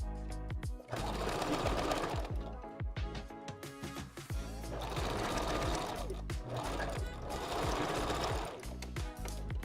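A sewing machine runs in three long bursts of rapid mechanical stitching, back-stitching through a 5x5 wig closure, with brief pauses and a little handling noise between runs, loud and close.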